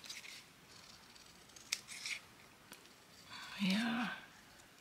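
Scissors snipping around a scrap of paper during a papercraft session, with a few sharp close cuts and soft rustling, followed by a voice speaking briefly.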